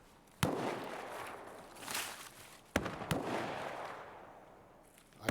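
Gunfire in the video game Escape From Tarkov: a few sharp shots crack out, each trailing a long echoing tail, one loud and near, others fainter, with no talking.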